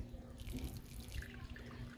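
Water runs out through the drainage holes of a recently repotted plant pot, a steady close trickle and splash with no voices.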